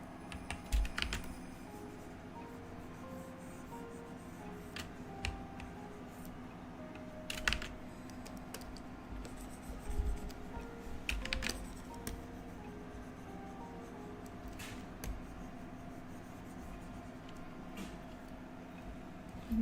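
Computer keyboard typing goes on steadily during a Blender modeling session, with soft irregular clicks and occasional louder keystrokes over a low hum, no voices.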